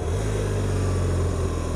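A motorcycle fitted with Dunlop Mutant tyres rides up a small icy track, its engine a steady, loud, continuous drone close by with no breaks and no talk.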